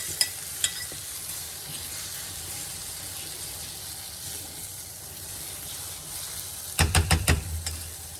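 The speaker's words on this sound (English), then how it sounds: "then you're going to add your eggs" Eggs frying and being stirred in a pan over a fire, with a steady broadband sizzle throughout and a short burst of louder scraping clatters near the end.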